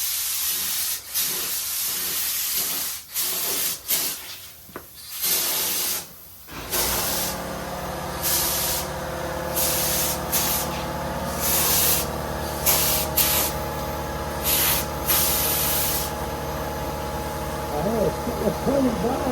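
An air spray gun hisses steadily as a 1968 Firebird is spray painted, following a few seconds of intermittent bursts of air. The hiss is loud and continuous and stops and starts briefly, with no talking over it.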